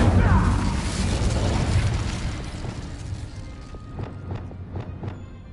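The Incendio fire spell cast in the Hogwarts Legacy video game: a loud whooshing burst of flame at the start that roars and slowly fades, followed by a few soft, evenly spaced taps.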